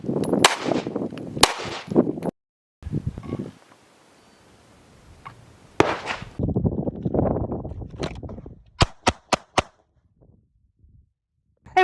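A Glock 19.3 pistol fitted with a JTT ported barrel fires loud, sharp shots outdoors, first in scattered bursts with echoing gaps, then a rapid string of four quick cracks, each followed by a brief ringing tail.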